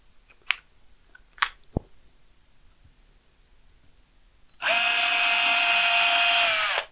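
A few sharp clicks and taps, then a power drill with a 2.5 mm bit whines loudly at a steady high pitch for about two seconds, close by, drilling a screw hole in a guitar body.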